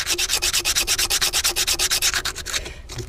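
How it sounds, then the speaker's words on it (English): Sandpaper rubbed in quick, even back-and-forth strokes to scrape old corrosion and gasket residue off a cooling-system part of a VW Microbus 2.3, about two dozen steady rasping passes, close and loud, slowing near the end. "so we'll take our sandpaper,"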